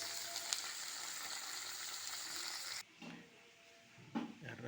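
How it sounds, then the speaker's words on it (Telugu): Ivy gourd (dondakaya) fries in a pan with a steady close sizzle and crackle, which drops away abruptly partway through, leaving softer intermittent sizzling bursts. "ఇప్పుడు జరుగుతుంది ఫ్రై శబ్దం కూడా ఎంత బాగా అనిపిస్తుంది"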